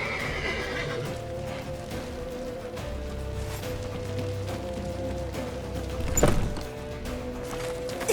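A horse neighs sharply once in The Witcher 3, clearly above steady hoof clip-clops and a busy background of movement and low rumble.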